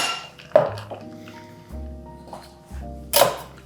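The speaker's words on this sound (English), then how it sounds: "remove the ice from the glass" Ice cubes clink and knock against a glass as they are tipped out while a vodka martini is made, several distinct close clinks and thuds separated by short pauses.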